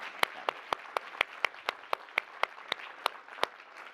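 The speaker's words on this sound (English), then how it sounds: "So a round of applause for all of you, for yourselves." Closing-remarks audience applause that is thin and sparse: a few distinct, evenly spaced hand claps ring out over a faint murmur of more distant clapping.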